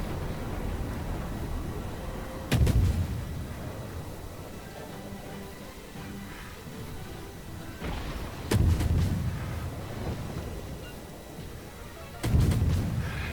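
Naval guns fire in a World of Warships battle: three heavy, booming salvos spaced several seconds apart, each a sharp crack followed by a rumbling roll, over a constant low hiss of sea and engine noise.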